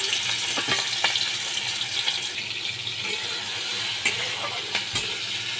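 Shrimp fry in hot oil in a home kitchen, a steady close sizzle and hiss with a few sharp pops and spatters.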